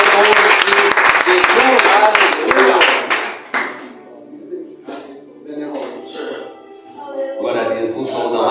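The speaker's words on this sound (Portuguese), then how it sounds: "Receba o servo do Senhor, aplaudindo ao nome de" A church congregation claps together for a few seconds; the loud, dense applause fades out as a voice starts talking over the quieter hall.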